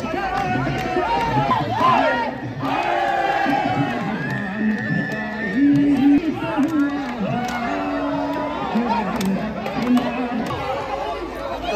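A dense crowd gathered after the Holika Dahan bonfire at a Holi celebration, steady close chatter and overlapping voices throughout, with scattered shouts and occasional cheering.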